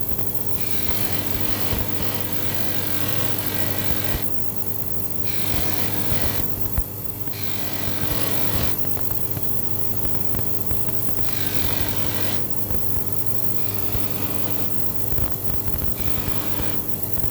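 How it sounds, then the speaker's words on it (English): A silver 925 jewellery piece is polished with white polish on a powered polishing wheel, a steady loud whirring hum and rubbing that swells and eases over and over, with no talk. "And you can start polishing it, and put a little bit more polish on, white polish."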